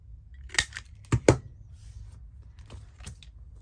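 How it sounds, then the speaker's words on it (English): Sharp scissors snip paper on a handmade journal in a few quick, crisp cuts close to the microphone, with quiet pauses between them. "I'll do a little snip there."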